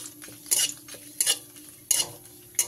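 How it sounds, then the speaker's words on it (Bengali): Whole spices — bay leaf, cloves, cardamom and cinnamon — frying in a little white oil in a hot wok, with a steady low sizzle broken by four sharp scraping stirs of a metal spoon against the pan. "কড়াইটা গরম করে দিয়ে দিলাম অল্প পরিমাণ সাদা তেল, তেজপাতা, 6 পিস লবঙ্গ, 5-6 পিস এলাচ, 2 টুকরো দারচিনি দিয়ে ভালো করে ভেজে নেব।"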